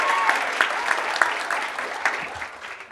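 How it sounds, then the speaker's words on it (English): Applause from people at a basketball team's press conference for a player, bright scattered claps that come close together, loud at first and easing off over a few seconds. "Everybody clap for Bree."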